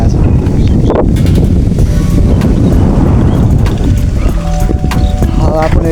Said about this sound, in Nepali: हावा पनि एकदमै क्या मस्त लागिरहेको छ नि, पुरै चिसो हावा आइरहेको छ